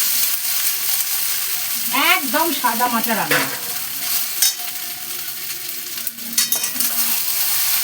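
Boiled noodles sizzle steadily in hot oil in a pan, a continuous close frying hiss with occasional stirring, while someone talks over it.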